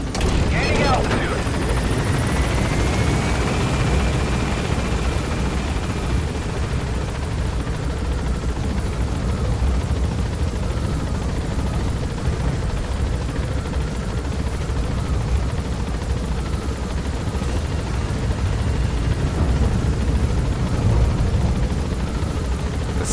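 A helicopter in the Metal Gear Solid V video game gains altitude, its rotor and engine a loud, steady wash of noise that holds throughout with no break.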